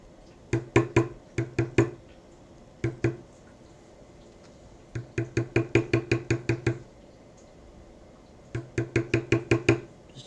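Sharp, quick tapping of a tool on leather during tooling, struck in rapid rhythmic bursts of about five to eight hits with short pauses between, close and fairly quiet, with no talking.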